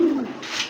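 A large giribaz pigeon from a nesting breeding pair gives one short, close, clear coo that dips in pitch and fades within a moment.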